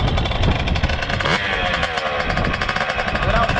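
A dirt bike engine revs loud and close, a rough buzzing drone that rises and falls in pitch, with a voice calling out over it.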